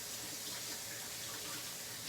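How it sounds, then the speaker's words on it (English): Tap water runs steadily into a kitchen sink as hands are washed, a close, even hiss with no pauses or voices. "So, I'm gonna wash hands again."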